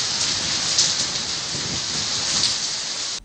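Heavy rain pouring steadily during a night of monsoon downpour in Punjab, a dense even hiss of drops hitting surfaces, continuous and close throughout.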